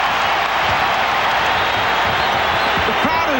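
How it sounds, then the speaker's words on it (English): A packed basketball arena crowd roars steadily through an NBA Finals game between the Portland Trail Blazers and Chicago Bulls in 1992, a dense unbroken wash of cheering with a commentator talking over it. "The crowd is right about at the level that Michael likes to hear it going."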